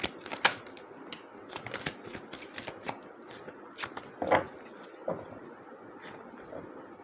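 Tarot cards are drawn and shuffled from a large, thick deck, producing a run of quick, close papery flicks and snaps, irregular in rhythm, with a few louder card slaps and no speech.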